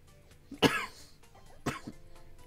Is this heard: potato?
no